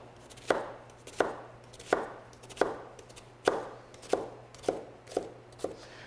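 A knife tip cuts slits into an onion on a cutting board, eight crisp knocks at a fairly even pace of about one every 0.7 seconds, close and clear with no talk.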